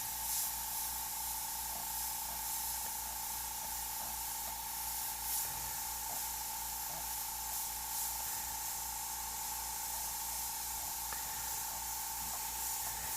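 An airbrush sprays paint in a continuous fine hiss with a steady high tone, even and close, with no voices.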